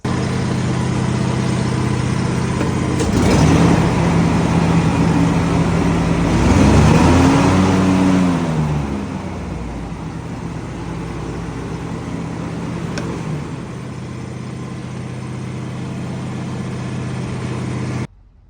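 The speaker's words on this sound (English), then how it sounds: "The tractor runs good." A John Deere X350 lawn tractor's small engine runs steadily at idle, a rough mechanical drone that rises briefly in pitch and loudness before settling back to an even hum.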